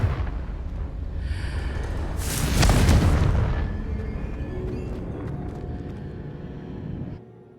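The Confringo blasting spell goes off in the Hogwarts Legacy video game with one heavy explosion that swells into a deep rumbling boom. A crackling burst rises at its peak, then the blast slowly decays over several seconds before cutting out.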